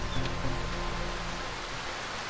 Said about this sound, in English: Of course it's gonna rain.